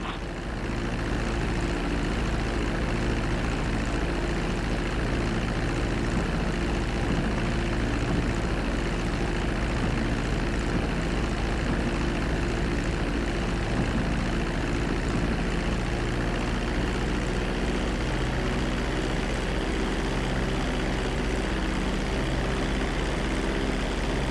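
A propeller airplane in Grand Theft Auto V lands and taxis along a runway, its engine a steady, loud, unbroken drone that holds alone throughout.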